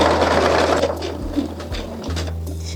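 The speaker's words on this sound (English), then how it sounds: "We're just going to sew right through." Sewing machine running a long basting stitch through fabric along a seam edge, a steady close mechanical whirr with a few brief pauses and restarts, no talking.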